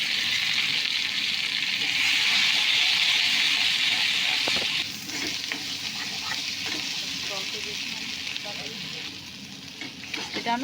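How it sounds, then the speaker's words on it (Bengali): Spice paste for spicy katla fish frying in a pan with dried red chilies and radhuni seeds, a loud, continuous hiss and sizzle that eases midway, followed by scraping stirs and lighter spitting. "মশলাটা কষা হচ্ছে"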